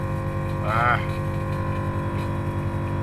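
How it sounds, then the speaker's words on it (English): An air suspension compressor on a Scion FR-S with an Airlift Performance kit running to fill the tank, a steady mechanical hum with a rising whine partway through, over low background noise. "I just gotta wait for the compressor to fill up now"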